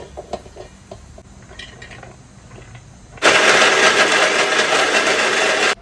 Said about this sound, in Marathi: आता हे सगळं मिक्स करून वाटणार